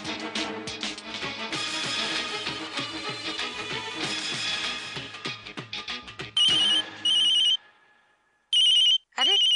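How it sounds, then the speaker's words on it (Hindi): Music plays, then a phone ringtone cuts in with two loud, close bursts of bright electronic chirping, a short pause between them. "अरे तेरा फोन बज रहा"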